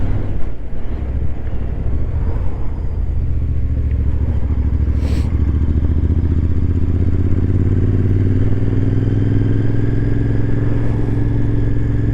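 A cafe racer motorcycle cruising along a road at golden hour, its steady engine drone and wind rumble loud and continuous throughout, with no talking.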